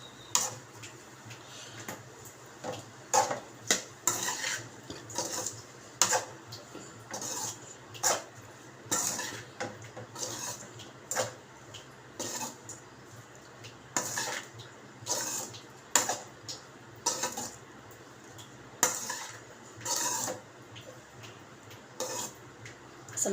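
Egg fried rice stirred and mixed in a pan, a long run of rhythmic metal spatula scrapes and clinks against the pan, close and steady, with no voices.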